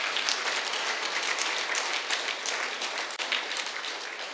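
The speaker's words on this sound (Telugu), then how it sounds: "ఇద్దరు శ్రీమూర్తుల కోసం గట్టి క్లాప్స్ కొడదాం" A crowd at a spiritual meditation gathering gives a round of applause honoring two women, a steady wash of many clapping hands at moderate distance with a brief dip near the end.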